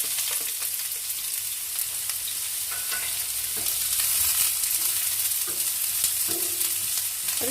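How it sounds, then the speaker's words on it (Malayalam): Chopped onion fries in melted butter in a pan, a steady bright sizzle with occasional stirring scrapes and clicks, close and continuous. "ബട്ടർ ഉരുകി കഴിഞ്ഞ് നമുക്ക് ആദ്യം അതിലേക്ക് നമ്മൾ അരിഞ്ഞു വെച്ച ഒരു സവോള ചോപ്പ് ചെയ്തത്"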